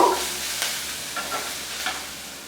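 Onions and dried red chillies fry in oil, producing a steady, moderately loud hiss and sizzle with a few soft stirring strokes, with no voices.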